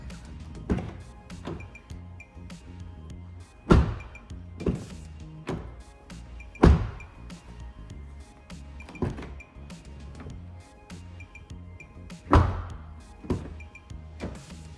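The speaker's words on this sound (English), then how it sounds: "let's start with the interior by hearing the door closing sound" Car doors on a 2024 Volkswagen Passat shut repeatedly, about five solid, heavy thunks spaced a few seconds apart, close by, with faint clinks and interior mechanism noise between them.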